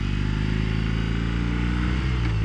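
A BMW R18 motorcycle engine while riding, a close, steady low-pitched boxer rumble with even pulsing that shifts slightly in pitch near the end, with no talk.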